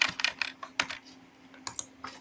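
Close keyboard typing on a computer running MATLAB, a few quick bursts of crisp clicks separated by short pauses, with no voices.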